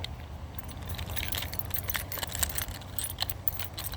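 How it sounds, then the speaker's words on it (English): Truck, Nissan and house keys on a ring with remote fobs jangle continuously up close, a busy metallic clinking and rattling with no pauses, outdoors beside a lawn mower. "that's the truck key and Nissan key, the house key, the Nissan key, and the truck keys and the buttons, the remotes"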